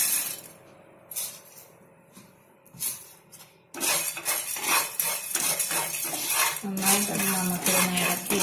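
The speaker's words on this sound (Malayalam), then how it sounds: "നന്നായിട്ടൊന്ന് നമുക്കിതൊന്ന് ഇളക്കി ചൂടാക്കണം." Pepper chicken curry stirred in a pan, a spoon scraping and clinking against the metal in brisk irregular strokes, quieter at first and then louder and busier, with no talking.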